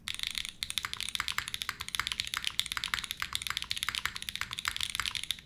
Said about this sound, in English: there should be no surprise here for a sound profile, but it's Obscura's, aluminum plate, screws done halfway, GMK Keycaps